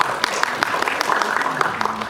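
Audience applause at a youth job-mentoring talent-donation concert, steady clapping filling the hall throughout with scattered sharper claps standing out.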